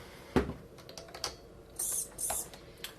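A small RC servo motor with no servo arm attached, wired to the throttle channel of a receiver, gives two short, thin whirring bursts. Faint clicks and handling taps surround them in a quiet room.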